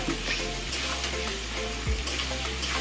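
Goat meat frying in a pan over spiced masala, a steady dense sizzle and crackle at moderate volume with faint stirring, no voices.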